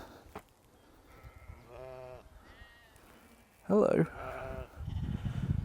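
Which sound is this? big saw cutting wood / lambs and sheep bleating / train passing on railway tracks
lambs and sheep bleating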